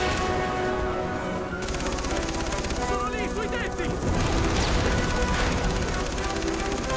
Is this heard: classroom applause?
no